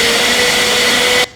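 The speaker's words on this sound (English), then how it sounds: "I'll let it run for about a minute or until all the ice has been chopped down" Upright blender crushing ice for a pumpkin cottage cheese smoothie: a loud, steady motor whir with a coarse grinding texture runs nonstop, then cuts off abruptly at the end.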